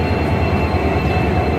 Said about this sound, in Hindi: सामने आ चुकी है हमारी फाजिल्का एक्सप्रेस, जिसमें लगा हुआ है ट्राई कलर EMD लोकोमोटिव